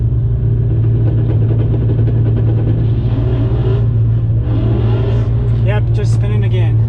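Ford GT500 at a drag strip spinning its tyres, a loud steady engine drone with rising wheelspin howl layered over constant rumble near the microphone, with talk over it.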